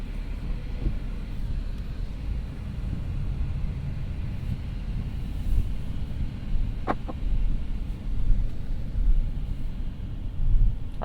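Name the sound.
2021 Mercedes-Benz S500 driving on test drive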